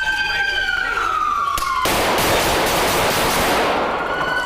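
Rapid gunfire in a police shooting in West Haven, Connecticut, a loud dense burst of shots over a wailing siren, harsh and close, with no talk.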